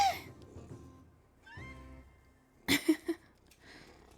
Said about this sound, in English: The purring, you can hear it. The purring and the licking.